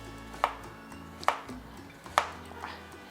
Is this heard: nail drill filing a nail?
no